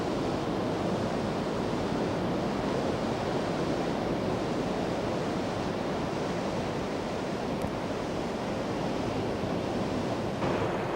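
Surf rolls onto a central city beach in Dunedin, a steady, unbroken wash of wave noise with some wind, no voices.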